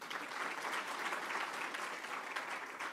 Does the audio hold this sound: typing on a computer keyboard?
no